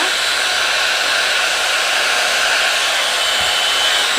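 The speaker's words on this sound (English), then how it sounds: "I'm going to put music on so you guys don't have to hear all the noise as I dry my hair" A Plavogue One Step hair dryer runs continuously at close range, a loud steady broadband whoosh of blowing air with no pauses or talk.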